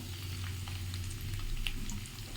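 Hilsa fish curry in mustard oil and onion paste bubbles and sizzles steadily in a pan after water is added, a continuous close hiss with soft pops and no voices.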